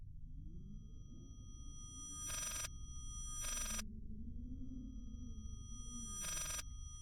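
A telephone rings in the Layers of Fear horror game, with three bright, evenly spaced rings of the bell over a low, droning ambient rumble.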